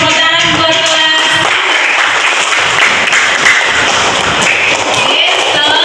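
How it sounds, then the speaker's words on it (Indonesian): A school class of students clapping together in a classroom: loud, dense, continuous applause filling the room for several seconds, with a brief voice near the start. "Tepuk tangan buat kelas."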